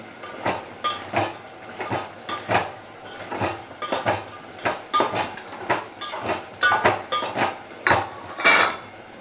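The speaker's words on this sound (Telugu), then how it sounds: "ఇప్పుడు దాంట్లోకి మనం వేయించి పెట్టుకున్నాం కదా చేప ముక్కల్ని" Fried fish pieces being added into a curry in a pan, a series of irregular close clanks and scraping utensil knocks against the pan with short gaps between them, no talking.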